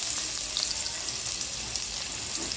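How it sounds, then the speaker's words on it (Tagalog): Ginger, garlic, onion and tomato sauté in cooking oil for shrimp ginataan, a steady broadband sizzle that holds unchanged throughout, close and moderately loud, with no voices. "Konting cooking oil, igisa natin ang ginger, garlic, onion at kamatis."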